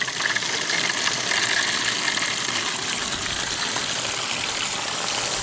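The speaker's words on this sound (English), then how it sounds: "water seems to be running out of it anyway" Water gushes steadily out of a sluice through a valve, a continuous loud, broadband rushing hiss with no pauses.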